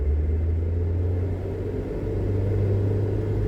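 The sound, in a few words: Ford Transit van engine held at 3,000 RPM in first gear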